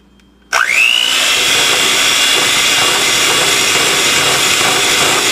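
An electric mixer starts abruptly and runs at a steady high whir, blending powdered sugar into chocolate frosting in a bowl, loud and continuous with a rising whine at startup.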